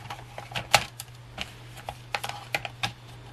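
Scissors cutting a sticker storage page for combining value packs and accessory books, a series of short crisp snips spread across a few seconds, close and fairly quiet over a steady low hum.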